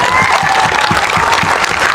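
At a Jan Suraaj political gathering, a large crowd applauds loudly and continuously, with dense clapping over a rhythmic low thumping throughout.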